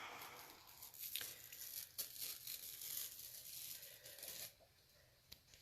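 A Chalk Couture transfer peeled slowly off a surface, a quiet crackling, tearing rustle with a few small sharp ticks, close and faint.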